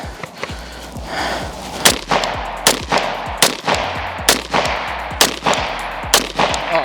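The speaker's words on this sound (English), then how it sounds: "let's see if I can bump fire it" Rifle shots from a modified MCX fired in an attempted bump-fire, loud close cracks in irregular clusters of single and doubled shots, ringing out over a steady low background.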